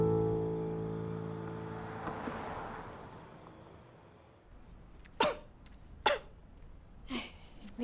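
A man coughs three times, short and dry, from a sore throat, the coughs spaced about a second apart and standing out over a quiet room hum after a fading background tone.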